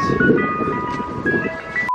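An ice cream truck plays its tinkling melody loudly and close by, the tune's notes ringing clearly over a rumbling engine and traffic for about two seconds before it cuts out.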